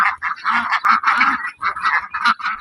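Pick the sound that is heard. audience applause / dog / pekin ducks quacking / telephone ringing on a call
pekin ducks quacking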